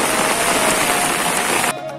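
Rain falls steadily in a village after a month-long dry spell following Cyclone Tauktae. The close, dense hiss cuts off abruptly near the end.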